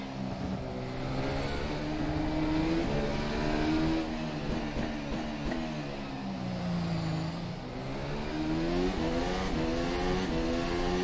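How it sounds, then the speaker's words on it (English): A Formula race car engine in rFactor 2 sim racing at the Singapore Bay circuit drones steadily with rising and falling revs through gear changes, moderately loud and continuous, with no talk. "Have fun testing the car, Alex."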